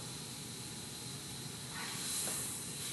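Butter and grapeseed oil sizzle in a hot frying pan, a steady close hiss that swells a little louder toward the end, with no talking.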